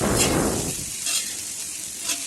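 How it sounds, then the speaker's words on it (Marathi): Okra bhaji sizzles in a pan while coriander is stirred through it, a loud frying hiss that eases after the first moment, with soft scraping strokes coming back at steady intervals. "कोथिंबीर टाकून झाल्यावर मिक्स करून घेऊ एकदा"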